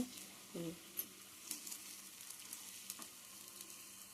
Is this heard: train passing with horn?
no